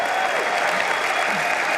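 Dense, steady applause from an audience at an American Israel Public Affairs Committee event rolls on evenly throughout, a continuous wash of many hands clapping with no voices standing out.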